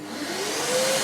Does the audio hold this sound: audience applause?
no